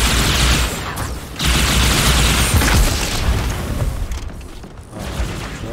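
Grenade explosions in the Halo 2 video game, loud booming blasts with crackling bursts of gunfire in a dense, continuous barrage; no talk.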